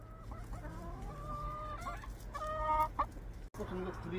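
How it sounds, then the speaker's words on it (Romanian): Hens cluck in short, repeated bursts close by, their calls overlapping in an uneven rhythm over a steady low background hum, with no talking. "Și la găinuțele-i frică."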